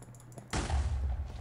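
A sudden loud explosion bursts in a Minecraft game on the Agrarian Skies modpack, likely a creeper blast, rumbling and decaying after a quiet start.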